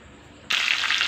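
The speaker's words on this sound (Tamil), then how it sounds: "இப்போ தண்ணி விட்டு இது நல்லா கொதிக்கட்டும்." Water suddenly begins pouring into a cooking pot, a steady splashing gush starting partway through and continuing to the end.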